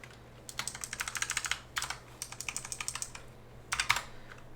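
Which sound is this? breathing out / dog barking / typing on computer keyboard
typing on computer keyboard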